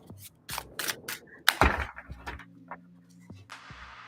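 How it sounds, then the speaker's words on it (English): Slippery tarot cards are shuffled up close in quick, crisp riffling bursts, with a soft low hum lingering as the shuffling trails off. "Let's get another good shuffle in."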